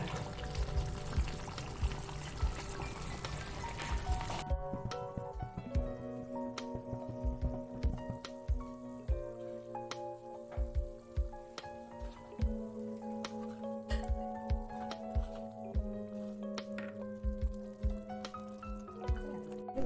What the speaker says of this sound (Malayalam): കുറച്ച് വെളിച്ചെണ്ണ ഒഴിച്ചിട്ട് വറവിടേണ്ടതുണ്ട് അതിന് വേണ്ടി കുറച്ച് വെളിച്ചെണ്ണ ഒഴിക്കുന്നത്